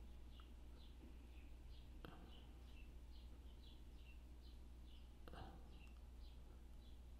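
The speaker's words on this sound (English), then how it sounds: "I hope you can hear the birds outside." Faint, high chirps from small birds repeat at an even pace in the distance, with a couple of soft knocks nearby and low background hum.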